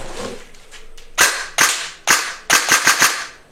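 An airsoft AEG fires BBs in loud, close, crisp cracks. A handful of single shots is followed by a quick burst, over a low mechanical hum.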